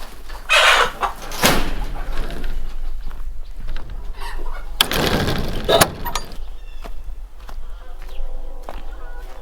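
Hens clucking on a farm in bursts of loud, close calls, with quieter scattered clucks and faint background noise between them and no talking.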